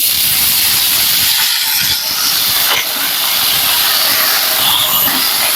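Chopped large potato pieces hit hot oil in a pan for a moringa-flower curry, setting off a loud, close, continuous sizzle and hiss that runs unbroken from start to finish.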